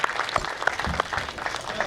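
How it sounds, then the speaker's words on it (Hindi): An audience at a comedy poetry gathering claps loudly and continuously, a dense crackle of many hands with regular stronger beats, close and full, while a faint voice murmurs beneath it. "तालियां बजा दीजिए"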